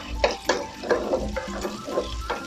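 Onion frying and being stirred in a pan, with soft sizzling under repeated scraping strokes of a utensil at an irregular rhythm, close and moderately quiet.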